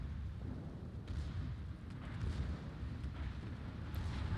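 Naval gunfire from a warship's rear turret in World of Warships, a salvo and its hit landing as low, rumbling booms under steady battle noise, with a few sharper blasts through the stretch.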